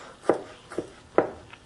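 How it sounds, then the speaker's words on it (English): A knife finely chops garlic on a cutting board, giving three or four crisp, close chops at a steady, unhurried pace with quiet gaps between. "And just finely chop it"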